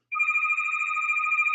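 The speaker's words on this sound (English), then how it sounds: "I got to turn that phone off." A telephone rings with a steady two-tone electronic trill that starts abruptly and continues unbroken and fairly loud, with no talking.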